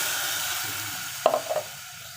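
Ground masala paste sizzles in hot oil for a Malvani-style usal, with a steady hiss and a few sharp scraping stirs near the end.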